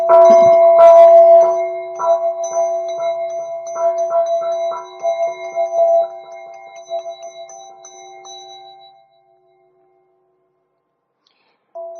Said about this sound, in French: Le petit gong, j'aime bien le petit gong.